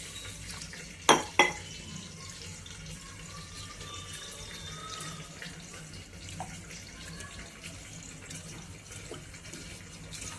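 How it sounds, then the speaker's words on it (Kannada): Rice washed in water in a home kitchen, a steady close slosh and swirl of grains with a couple of sharp clinks from the vessel early on and no talking. "ಇವಾಗ ಇದನ್ನು ಅಕ್ಕಿನ ಚೆನ್ನಾಗಿ ಒಂದು ಸ್ವಲ್ಪ ತೊಳ್ಕೊಳ್ಳೋಣಂತೆ."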